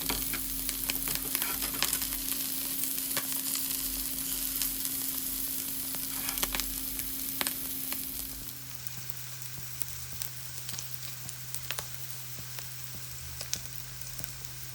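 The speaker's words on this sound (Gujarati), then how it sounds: "તમારે પનીરને ફેરવતું રહેવાનું ચારે બાજુએ, એટલે લાલ થઈ જવા માંડે તમારું પનીર" Paneer fries in a pan for palak paneer, with a steady, crackling sizzle that keeps going throughout, with occasional pops and no talking.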